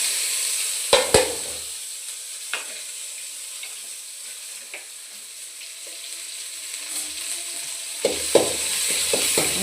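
Small onions fry in hot oil with a soft steady sizzle, broken by a few sharp clattering knocks and stirring scrapes near the start and end.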